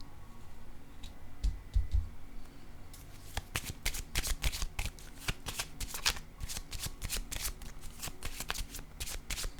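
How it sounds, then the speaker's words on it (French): Tarot-style cards handled and laid down during a card reading, with a quiet rustle first, then a steady run of crisp card-shuffling riffles and snaps, close and fairly loud with no talk. "je vais déposer une carte sur la rencontre"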